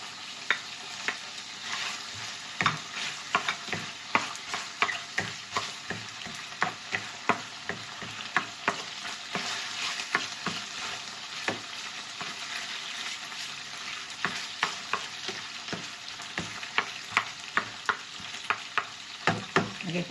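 Garlic fries in a pan for adobo, sizzling steadily up close while a utensil stirs and taps against the pan in irregular, sharp knocks throughout, and no one speaks.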